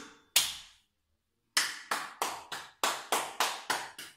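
Two sharp hand claps separated by a pause, then a steady run of eight more, each crisp, close and loud, with no one talking over them.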